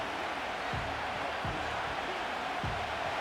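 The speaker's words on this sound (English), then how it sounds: "The crowd making their presence felt." A stadium crowd in the Madden 25 football video game makes a continuous broadband roar at a steady level, with a few low thuds.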